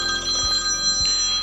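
A phone rings inside a camper van, its steady electronic tone sounding close and continuous, with two soft low thumps in the background and no voices.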